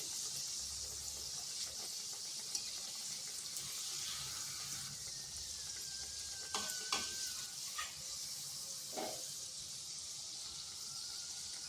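A semolina and yogurt snack frying in a pan on low to medium heat, with a steady, quiet hiss of oil and a few light scrapes and taps near the middle, close by and without speech.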